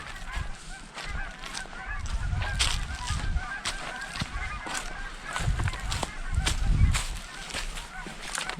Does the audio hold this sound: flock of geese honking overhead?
yes